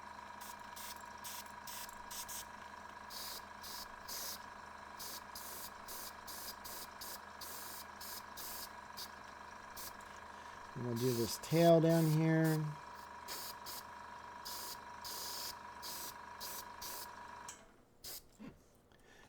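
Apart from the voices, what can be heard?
airbrush spraying paint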